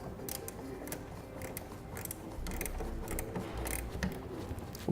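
Two 2 1/2-inch wrenches, one held above and one below, tighten a bolt on the rail of an Access TonnoSport soft roll-up tonneau cover, making close repeated metallic clicks and scrapes in an irregular rhythm.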